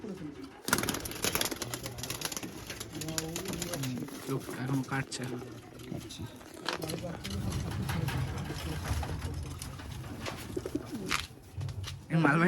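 Racing pigeons at a tournament winner's home in Barasat coo softly and repeatedly nearby while a person talks, with rustling and handling noises throughout.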